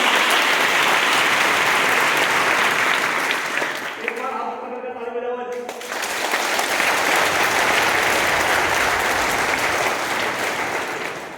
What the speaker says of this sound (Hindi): जरा ताली बजाना एक बार, आप ताली बजाओ